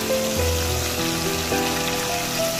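Marinated gravy poured onto chicken frying in a pan for lemon pepper chicken, giving a steady, close broadband sizzle that continues without talk.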